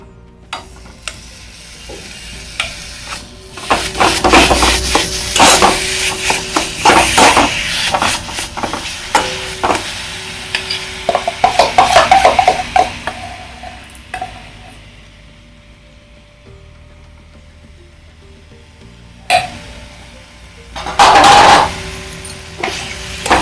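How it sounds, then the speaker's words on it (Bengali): Chhana, milk and sugar being stirred together in a pan for kalakand, with a spoon scraping and knocking in irregular bursts, a soft sizzle beneath, close and fairly loud, with no talking. "চিনি দিই এবার এটা আমি এর সঙ্গে মিশাবো"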